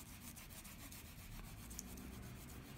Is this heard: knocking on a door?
no